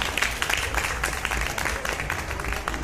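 Audience clapping for a couple at a sangeet wedding celebration, a steady dense patter of many hands that holds evenly through the short stretch with no talk over it.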